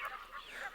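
Geese and ducks on a lake honk and call in a faint, distant chorus of overlapping nasal cries.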